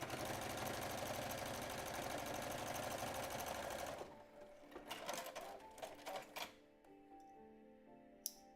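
Sewing machine stitching a fine zigzag stitch while upcycling an old bra, running in a loud steady mechanical whir for about four seconds, then stopping into scattered clicks, fabric handling and quiet taps.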